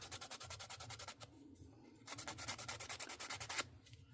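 Coarse sandpaper rubbed around a small wood-turned umbrella ornament, giving steady rhythmic rasping strokes in two bursts with a short pause between, close and fairly quiet.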